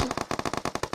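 Rapid automatic gunfire in the PUBG Mobile battle royale game, about a dozen sharp shots in quick regular succession over one second, loud and close with no talk over it.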